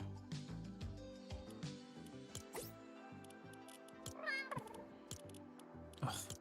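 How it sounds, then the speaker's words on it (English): A cat meows several times inside the Fortnite video game, short rising cries over game sounds and music, with some speech mixed in. "Who's left their cat behind?"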